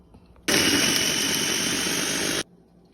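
An electric meat grinder running on meat for homemade skinless longganisa, a steady loud motor whir that starts abruptly, holds for about two seconds and cuts off.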